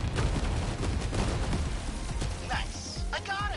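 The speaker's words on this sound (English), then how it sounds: "Oh, that was the sentry gun." A sentry gun fires in the 13 Sentinels video game, with dense bursts of gunfire and mechanical clatter mixed with sci-fi effects and faint rising tones, moderately quiet overall.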